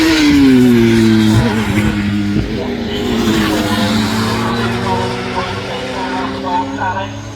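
Race cars lapping Castle Combe circuit during a June raceday, with Radicals, MX5s, saloons and GTs on track; engines roar loudly and steadily throughout, shifting pitch as cars pass, under a commentator talking continuously.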